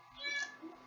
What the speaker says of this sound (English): Pardon the cat.